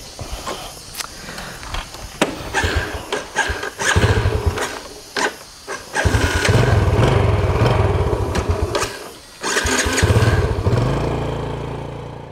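A motorcycle engine fires up and runs loudly close by, settling into a steady rumble with a few revs, while some footsteps and movement come and go around it.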